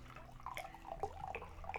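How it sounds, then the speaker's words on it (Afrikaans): Wine is poured into a cup during a communion, a faint, soft trickle and dribble of liquid heard close up in a quiet room. "En ek skink nou hierdie wyn"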